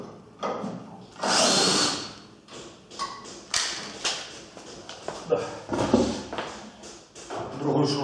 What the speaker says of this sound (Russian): саморезы выкручиваются только 18-вольтовыми метабами